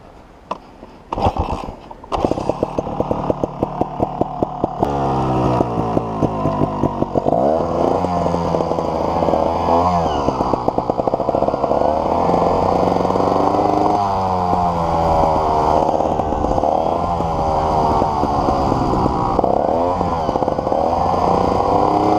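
A 2013 Sherco 3.0 ST trials motorcycle engine is started, then revs up and down in repeated loud, close bursts with gear-like pitch sweeps, steady throughout with no talk.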